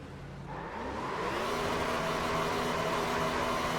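Simulated race car from the iRacing Gen 4 series at Dover doing burnouts: a steady, loud engine roar with a rising whine and hiss of tire spin, continuous and close throughout, with no talking.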